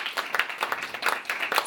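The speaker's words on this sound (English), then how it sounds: "Let's give Mr. Dan Desmond a big round of applause." Audience at a panel discussion applauding a speaker, several distinct clapping bursts in quick rhythm, fairly close and moderately loud.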